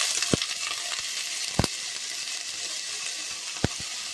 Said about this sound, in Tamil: இப்போ இதை நல்லா வதக்கிக்கலாங்க